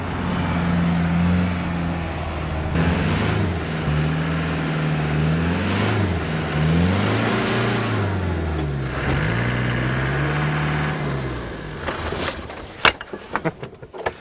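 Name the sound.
off-road vehicle driving through Sahara desert sand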